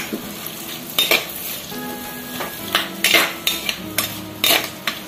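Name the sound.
frying onion, fennel, curry leaves and green chilli in coconut oil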